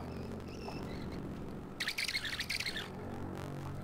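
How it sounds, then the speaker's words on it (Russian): Birds chirp in The Trail video game: faint, thin tweets early on, then a busy, brighter burst of rapid chirping in the middle that fades again, over a low steady game ambience. "Ну что ты чирикаешь-то все время, а?"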